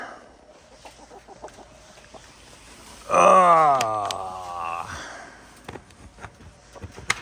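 A single loud, drawn-out cluck rises from a quiet henhouse in the evening, trailing off, followed by scattered soft clucks and rustling.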